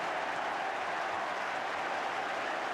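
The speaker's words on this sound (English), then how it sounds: "The crowd celebrate, and Maldoneki gets his 7th goal of the season" A football crowd at a Luton Town versus Leicester City match in 1981 roars and applauds a goal in a dense, continuous wall of clapping and cheering that holds steady from start to finish.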